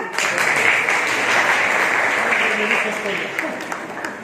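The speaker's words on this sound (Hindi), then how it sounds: "तो ताली तो बनती है ना।" A crowd applauds steadily for about four seconds after a thermocol science demonstration in a classroom, a dense, even clapping that stays fairly loud throughout.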